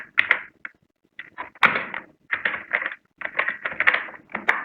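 Clicks from a computer keyboard come in rapid bursts separated by short pauses as an entry is typed into Tally Prime accounting software. The keystrokes are close and clear, with a few heavier presses standing out.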